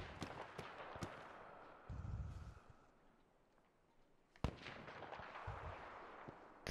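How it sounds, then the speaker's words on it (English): Distant gunfire in a squad-based shooter video game: scattered faint pops and a few sharper cracks, with low rumbling bursts between them, all quiet and far off. "They're firing at a squad down here."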